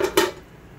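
A lid set back on a cooking pot of penne with broccoli and chorizo, one short close clack and rattle of metal, then quiet.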